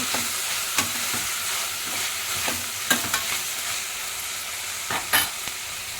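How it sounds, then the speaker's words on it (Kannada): Onions with cumin and turmeric fry in a pan for pav bhaji, a soft continuous sizzle broken by several scraping stirs of a spoon. "ಸ್ವಲ್ಪ ಅರಿಶಿಣ ಪುಡಿ ಹಾಕಿ ಸ್ವಲ್ಪ ಕಂದು ಬಣ್ಣ ಬರೋ ತನಕ ಇದನ್ನು ಬಾಡಿಸ್ಕೊಳ್ಳೋಣ"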